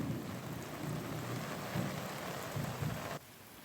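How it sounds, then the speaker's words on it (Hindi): Steady heavy rain in Haridwar pours continuously with low rumbles of thunder rolling underneath, a dense wash of sound that cuts off abruptly near the end. "गरज चमक के साथ हुई बारिश"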